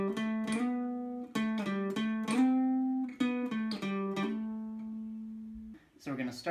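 Electric or acoustic guitar playing the second part of the solo from a song, a melodic run of plucked, sustained notes with hammer-ons, clear and close with no voice over it.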